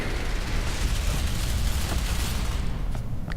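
Dense, rumbling blasts of video game grenade explosions in Ghost Recon Phantoms keep going without a break, loud and close, with a couple of sharper cracks near the end.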